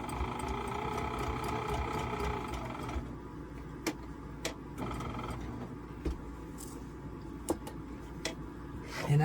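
A sewing machine stitches around the outside edge of a Dresden quilt block at a 2.5 stitch length, giving a steady close mechanical whir that shifts pitch partway through, with a few sharp clicks.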